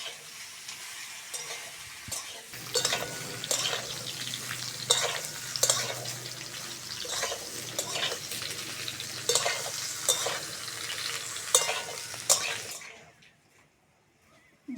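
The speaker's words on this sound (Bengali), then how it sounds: "আলুর সঙ্গে ঝিঙেটাও ভালো করে ভেজে নেবো" Ridge gourd and potato frying in a pan give a steady close sizzle, broken by regular scraping stirs, before the sound drops away to near silence at the end.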